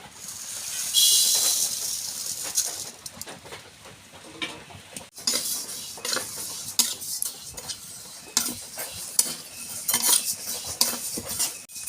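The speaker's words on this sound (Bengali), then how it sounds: "কড়াই চাপিয়ে দিয়েছি, ভেজে নেব মুগ ডাল।" Mung dal frying and being stirred in a wok, with scraping and clinking of a utensil against the metal over a soft sizzle, moving in uneven strokes from close by.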